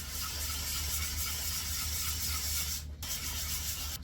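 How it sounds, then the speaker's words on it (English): Sandpaper rubs across two violin bridges at once in a violin workshop, a continuous soft close-up scraping hiss with a brief dip near the end. "So I'm just sanding 2 bridges at once because it's easier with the sandpaper."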